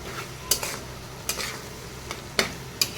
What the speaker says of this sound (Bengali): তো এখন আমি শুটকিটা আর যে আস্তা রসুন পেঁয়াজটা দিয়ে দিব